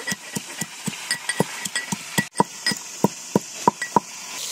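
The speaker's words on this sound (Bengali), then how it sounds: "মশলাগুলোকে গুঁড়ো করে নেব" Whole spices being pounded into powder for a Bengali muri ghonto, a steady series of sharp, evenly spaced thuds from a pestle striking, close and clear with no talking.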